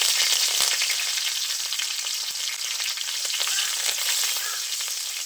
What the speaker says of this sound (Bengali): কারি পাতাগুলো একটু ভালো করে ভেজে নেব।